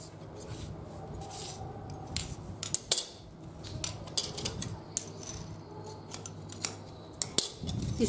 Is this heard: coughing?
no